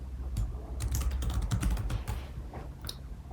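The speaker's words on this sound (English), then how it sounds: "So let's just quickly type these things" Quick, steady typing on a computer keyboard, a close run of soft key clicks with brief pauses, alone without voices.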